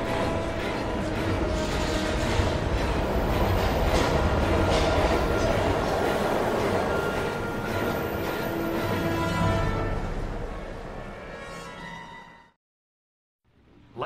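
A train in the Heavy Rain video game rumbles and clatters steadily across a long stretch, joined by a voice and a rising screech before cutting abruptly to silence near the end.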